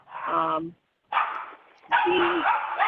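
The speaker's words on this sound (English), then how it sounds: "There's a dog that's joining us." A dog barks nearby in three separate loud bursts, with gaps of quiet between them during an online meeting.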